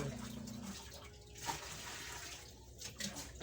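Water runs steadily from a tap into a container being filled for bathing pet dogs at home, a soft continuous splashing rush with a faint voice briefly under it.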